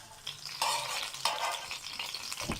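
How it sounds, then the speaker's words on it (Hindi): Chicken leg piece cooking on a hot tawa while being pressed down, a low continuous sizzle with soft bursts of scraping and pressing close up. "इसको बहुत अच्छी तरह तवे के ऊपर आप पकाना है,"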